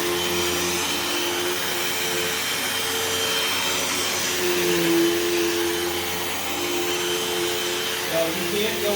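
A Hoover Elite Rewind Plus vacuum cleaner pushed across carpet gives a loud, steady motor whine and rushing airflow that holds unbroken, up close, with faint speech barely audible beneath it.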